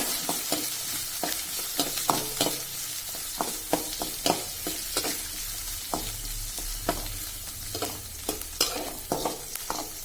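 Onions and green chillies stir-fry in a pan for coconut rice, a soft continuous sizzle with frequent sharp clicks and scrapes of a spoon stirring throughout.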